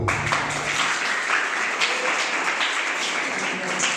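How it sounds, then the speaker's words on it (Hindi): A crowd at an education training camp in a village gives hearty applause, dense and close clapping that stays loud and steady across the few seconds. "इसके लिए जबरदस्त ताली"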